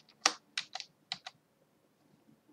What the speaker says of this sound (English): You can see some movement because I'm putting back my keyboard